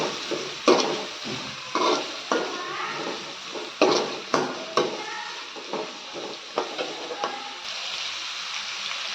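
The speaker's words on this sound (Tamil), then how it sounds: "இப்போ வெங்காயத்தை நல்லா ஃப்ரை பண்ணிக்கலாம்" Onions frying in a pan for a Tamil macaroni recipe: a steady hiss of sizzling with repeated scraping and clacks of a spoon stirring against the pan, some strokes louder than others, close by.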